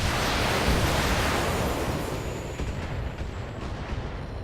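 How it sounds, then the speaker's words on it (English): A mech launching salvos from both LRM missile launchers in Battletech, a dense continuous roar of rushing missile noise that swells loud at the start, then gradually thins into a softer hiss with scattered thumps. "we're actually going to pick you and fire both LRMs"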